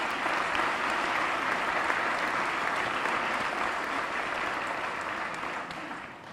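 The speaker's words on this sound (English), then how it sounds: "Could you give them another round of applause, please?" A hall audience gives Ty and Nicole a sustained round of applause at an awards honoree event, dense steady clapping throughout that fades slightly at the end, with no talk over it.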